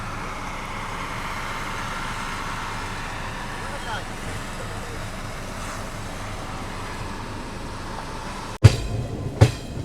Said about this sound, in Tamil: நம்மளோட ட்ரெயின் இப்போ பார்த்தீங்கன்னா 5 நிமிஷத்துக்கு அப்புறம் காயங்குளம் ஸ்டேஷன்லேருந்து டிபார்ட் ஆயிடுச்சுங்க